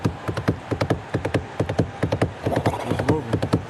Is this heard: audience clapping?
no